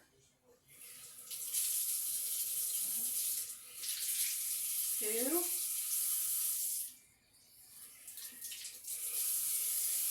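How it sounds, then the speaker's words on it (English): A kitchen sink tap runs water into a bowl in several long bursts, with a brief pause between them, and a voice speaks quietly over it. "I'm going to go over the sink and I'm going to put 3/4 cups of water in this bowl"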